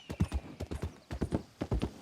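Hooves of a Missouri Fox Trotter horse ridden in a video game, a steady close clip-clop of grouped beats at a brisk gait, with no talking over them.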